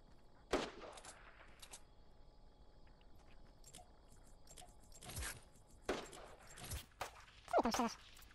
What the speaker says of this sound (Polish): Słyszałem strzały.